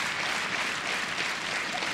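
A crowd at a badminton match, the Swiss Open final, breaks into dense, sustained applause that fills the hall evenly from start to finish.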